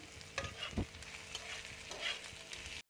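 Carrots, beans, capsicum and bell peppers stir-frying in a pan for veg chow mein, with a steady close sizzle and a few louder scraping stirs, no voices.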